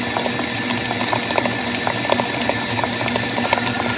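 An electric mixer beats Oreo cheesecake filling until creamy, giving a steady, even motor whir with faint clicks of the beaters against the bowl throughout, close and constant with no speech.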